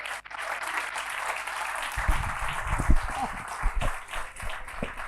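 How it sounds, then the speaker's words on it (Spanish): A church congregation claps for the King during worship, a lively spread of applause under low thumps and background voices. "Vamos, apláudale más fuerte al Rey."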